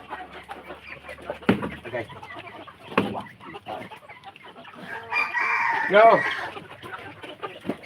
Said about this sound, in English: I have to feed the chicken